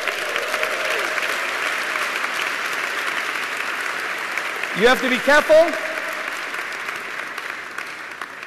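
Audience applause at an MBA graduation ceremony, a sustained wash of clapping from a large crowd, with a brief spoken interjection and a whoop rising over it midway.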